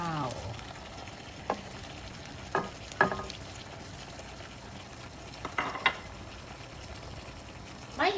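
Pompano fish frying in a pan, a steady close sizzle with several sharp crackles and pops scattered throughout, no talking.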